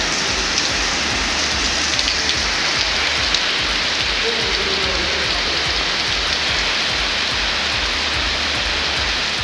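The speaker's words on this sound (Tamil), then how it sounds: "சென்னையில் அதிகாலையில் ஒரு சில இடங்களில் கனமழை கொட்டி தீர்த்தது." Heavy early-morning rain pours down in Chennai as a dense, steady roar of countless drops hitting surfaces, loud and unbroken throughout with no other sounds standing out.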